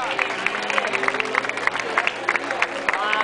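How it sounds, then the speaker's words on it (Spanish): Crowd applause at a popular running and walking race honors the top three women finishers, scattered claps and cheers with background chatter mixed in, moderately loud. "Un fuerte aplauso para ellas."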